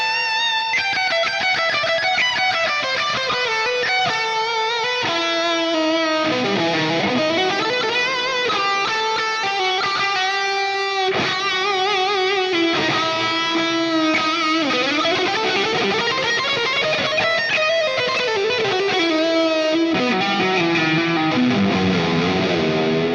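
Distorted metal electric guitar lead through a Fortin Nameless tone with reverb plays continuous sustained melodic lines and bends, loud and up front with no talking.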